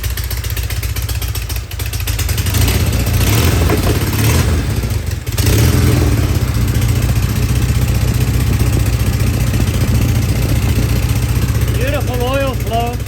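A vintage British motorcycle engine, just restored and freshly started, idles loudly and close with a steady low throb and mechanical clatter; a voice briefly talks over it near the end.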